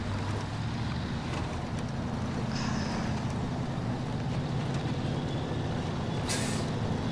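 A heavy truck grinds along a difficult path in the Snowrunner off-road driving game, its engine a steady low drone with a hissing air-brake-like burst near the end. No one speaks.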